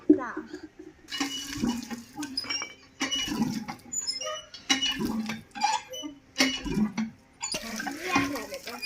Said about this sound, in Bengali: এইভাবে কলে পানি দিয়ে পানি উঠাতে হয়